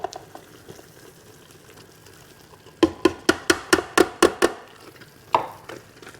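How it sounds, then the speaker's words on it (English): Cheese and heavy cream being stirred in a pressure cooker set to sear, with soft bubbling and then a quick run of about eight sharp spoon taps and scrapes against the pot, followed by one more knock. "We're going to stir in our cheese and our heavy cream."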